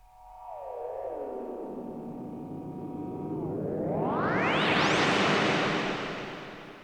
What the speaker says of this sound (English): And now when I click this, the time value for this echo setting will change.